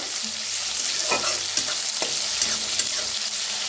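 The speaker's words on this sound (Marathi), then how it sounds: "आता छान असं भाजून घेऊया।" Green chillies, garlic and peanuts for thecha roasting in a pan, with a steady sizzle and scraping stirs close by, marked by a few sharper clicks of the spatula, and no one speaking.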